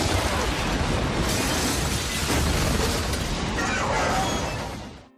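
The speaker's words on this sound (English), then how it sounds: "All explosions were real," A scale model of the White House blown up with real pyrotechnics for a film set, a dense, sustained roar of blast and debris lasting several seconds before quickly fading out.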